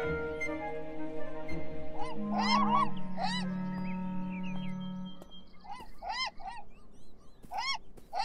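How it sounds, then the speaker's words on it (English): Repeated squawking seagull cries ring out over a droning synthetic background, several sharp calls in bursts, loud and close, from the video game Beyond Eyes. "Those dastardly seagulls."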